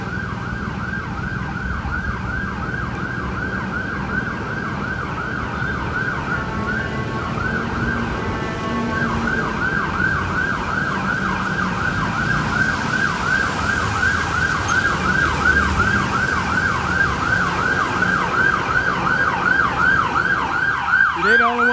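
An ambulance siren wails continuously in a steady rising-falling cycle on a rainy New York City street, loud and close throughout, with traffic rumble and wet road hiss beneath.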